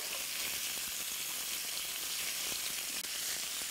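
Chicken pieces sizzle and brown in a hot pan for a Basque chicken dish, a steady, dense frying hiss that fills the whole clip with small crackling pops, near and continuous, with no voices.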